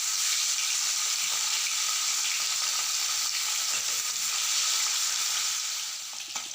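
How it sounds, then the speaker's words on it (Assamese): Fish pieces fry in hot oil for an Assamese recipe, making a steady, close, bright sizzle that stays even throughout and eases off slightly at the very end. "তেলখিনি গৰম হোৱাৰ পিছত ইয়াতে মাছ কেইটুকুৰ দি দিছোঁ।"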